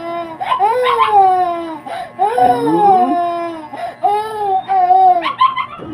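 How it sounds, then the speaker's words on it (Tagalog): A dog howls and whimpers in long, wavering, mournful cries, loud and close, rising and falling across several drawn-out calls. "Umiyak to ni aso"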